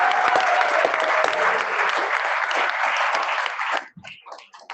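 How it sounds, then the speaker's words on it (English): A room full of people at a Kiwanis Club meeting claps loudly and steadily for about four seconds, then the applause trails off into a few scattered claps. "my life is going to be a whole lot better when I get home if you give her a big round of applause."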